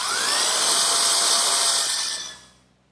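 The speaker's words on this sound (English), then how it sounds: "Now we can stand it up and slip the saddle pieces in, and once again pre-drill some holes." A power drill whines steadily while pre-drilling holes into the wooden saddle pieces of a rocking horse, a loud continuous high-pitched whir for over two seconds before winding down.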